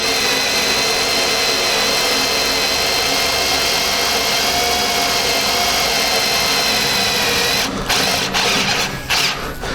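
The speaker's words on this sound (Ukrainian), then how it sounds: "Сверлити буду на невеликих обертах. Як можна бачити, сверлить легко." A step drill whines steadily at low speed, boring through metal with a constant high-pitched buzz, then stops and starts in a few short bursts near the end.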